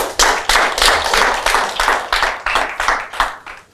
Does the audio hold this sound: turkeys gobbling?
no